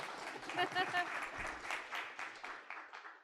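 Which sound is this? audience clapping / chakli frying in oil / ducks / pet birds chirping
audience clapping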